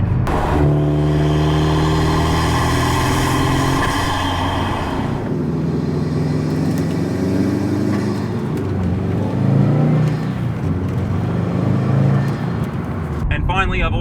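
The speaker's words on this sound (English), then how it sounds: "so you can hear what the intake sounds like pretty much straight off the engine" A Subaru WRX STI engine with a Cobb Redline performance intake revs hard and climbs through the gears, its intake roaring loudly close up, then settles lower before picking up again.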